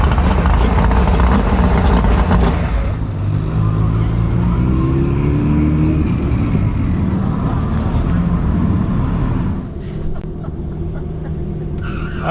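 A Tesla Model S Plaid drag races a short-wheelbase dragster, loud engine roar and tire noise building at the launch, a rising whine sweeping through as the cars pull away, then fading slightly toward the end.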